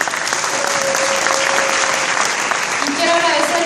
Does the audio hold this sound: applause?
yes